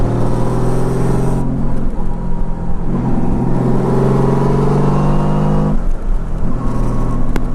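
A Honda Valkyrie motorcycle engine revved up close and loud, its deep multi-cylinder growl climbing and falling through several blips of the throttle, with brief dips between revs.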